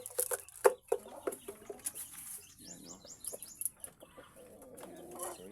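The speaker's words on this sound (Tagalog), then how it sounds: "ito yung Rhode Island Red natin na barako" A Rhode Island Red rooster clucks among penned poultry, with scattered short clucks and chirps at close range, some sharp and loud, mixed with a few higher bird calls and light background noise.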